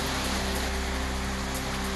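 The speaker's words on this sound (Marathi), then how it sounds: "भंडाऱ्यामध्ये वादळी वाऱ्यासह पावसाची जोरदार हजेरी." Heavy rain falls with stormy wind in rural Bhandara, a steady dense hiss of rain on surfaces with a low constant hum beneath, unbroken throughout.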